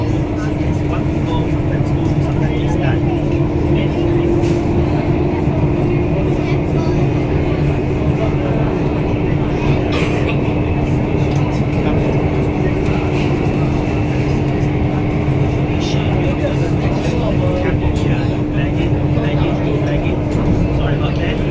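A Circle Line metro shuttle train of C830 or C851E stock runs between stations near Keppel, giving a loud, constant rumble and hum from inside the carriage for the whole stretch, with an onboard announcement voice over it.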